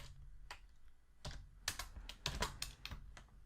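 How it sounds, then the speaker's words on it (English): Someone types on a computer keyboard in quick, irregular bursts of close, crisp key clicks, with no talking. "just typing the topics here"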